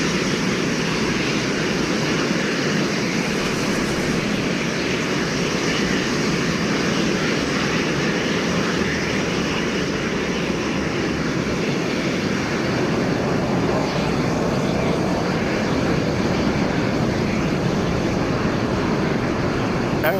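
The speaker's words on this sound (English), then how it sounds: "if you want to see the air show again" Airplanes flying overhead at an air show in the Places VR game at the Statue of Liberty, a continuous loud engine roar and rushing drone holding steady for the whole stretch, with no talking.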